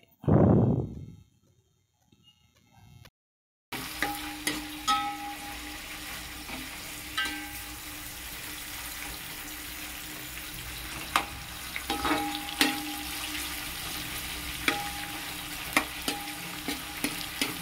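Green chillies and other ingredients for chicken biryani fry in hot oil, a steady close sizzle with occasional stirring clicks and pops running continuously after a brief thud at the start.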